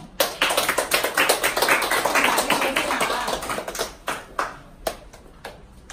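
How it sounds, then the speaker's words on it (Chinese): A small group claps and cheers in celebration of good fortune, dense and steady at first, then thinning out into a few scattered, separate claps near the end. "嚟掌声。"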